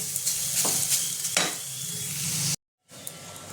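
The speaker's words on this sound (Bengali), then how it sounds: "গাজরটা আমি খুব ভালো করে ভেজে নিয়েছি" Grated carrots and khoya sizzle as they fry for carrot halwa, a dense crackle with a few stirring scrapes, close and steady, then a brief cut to silence before the frying returns.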